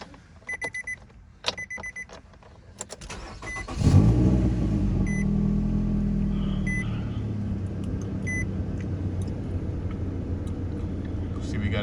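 A 2012 Nissan Rogue with a service engine light on is started: ignition chimes, then the engine cranks and settles into a steady close idle hum that continues to the end.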